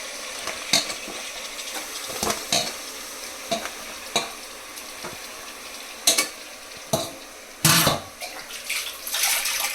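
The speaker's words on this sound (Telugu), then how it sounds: "ఈ మటన్ శుభ్రంగా కడిగేసేసి ఇందులో వేసేసుకుంటున్నాను" Washed mutton crackles and sizzles in a hot pan, giving a constant frying hiss broken by sharp splutters and stirring clatter, heard up close and uninterrupted.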